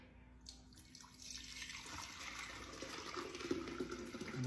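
Fermented pineapple tepache pours through a strainer, a quiet close trickle and splash of liquid that grows steadily fuller as the pour continues.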